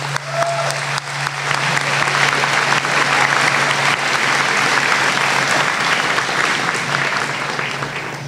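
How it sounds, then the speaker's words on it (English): Sustained applause from a large audience at a college convocation ceremony, a dense, even wash of clapping lasting throughout at steady loudness. "Let's have another round of applause for both Robin and Jasmine."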